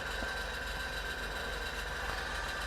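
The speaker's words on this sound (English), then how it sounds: "you'll hear the compressor kicking in there" An airbrush compressor hums steadily at close range, a continuous mechanical drone with a faint pulsing rhythm and no talk.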